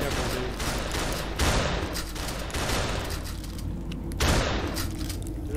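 Ravenfield gunfire: a dense, continuous crackle of rapid shots fills the scene, with heavier louder bursts rising at intervals above the steady wash of distant fire.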